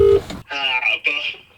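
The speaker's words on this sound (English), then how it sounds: "we've got a very important phone call to make" A telephone keypad sounds a brief dialing tone while a call is being placed, followed by a voice that continues close and clear.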